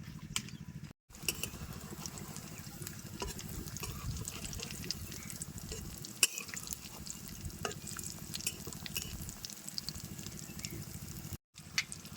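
Potato and soybean vegetarian cutlets frying in hot oil in a village kitchen, a steady dense sizzle with small crackles and occasional faint clinks, running almost continuously with two brief gaps.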